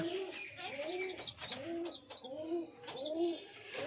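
Lotan pigeons cooing close by, repeated throaty rolling coos in a steady rhythm, several calls overlapping with faint background sounds.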